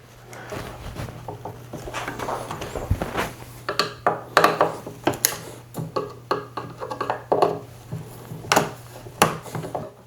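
Loose screws being tightened on an old, free-found potting table with a touch of rust: irregular close wooden clicks, creaks and scrapes over a steady low hum, with no talking.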